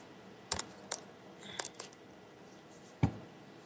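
Keys are pulled out, giving a few sharp, close metallic jingles and clinks spaced over a couple of seconds, the last one a heavier clunk, against a quiet room.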